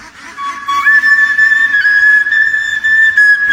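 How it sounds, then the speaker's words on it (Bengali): A duck herder plays a bamboo flute to lead a flock of ducks, producing a loud, clear sustained tone that slides up and holds steady with faint harmonics, played alone without talk. "তার বাঁশির সুরে পিছে পিছে ছুটে যায় হাজার হাজার হাঁস"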